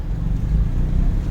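A car pulls away in second gear during a driving lesson, its engine a steady low rumble that holds even and continuous throughout, with no voices over it.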